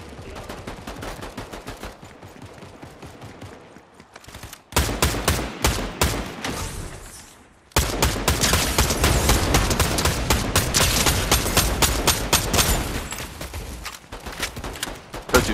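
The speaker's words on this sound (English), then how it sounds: "Somebody's shooting." Gunfire in the video game Fortnite: scattered shots give way to loud, rapid bursts of automatic fire, with a short lull before a long sustained barrage.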